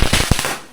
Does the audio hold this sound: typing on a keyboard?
no